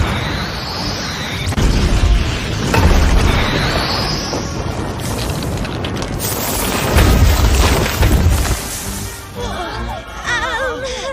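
A fire bullet spell from an otherworldly fantasy adventure erupts into loud explosive booms and crashing blasts that roll on for several seconds, with voices heard at moments among the noise.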